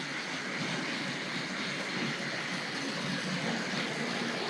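Tri-ang R.53 Princess Elizabeth model locomotive running on track with Pullman coaches, a steady broadband whirring rumble that holds an even level throughout, no clear pauses or clicks standing out.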